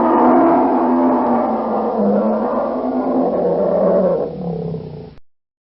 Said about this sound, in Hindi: आई एम बियर, मैं भालू हूँ और मेरी आवाज़ ऐसी है।